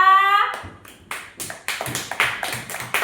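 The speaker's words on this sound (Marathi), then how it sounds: "टाळ्या वाजवा" Children clap together in a classroom, a burst of hand claps that starts and then breaks into uneven rounds of claps over about two and a half seconds. A brief musical tone plays just before the clapping begins.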